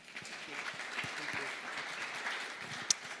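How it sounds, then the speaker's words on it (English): A congregation claps at a church service, soft and fairly distant, with a dense, steady patter of many hands throughout. "you're clapping for them because they're awesome"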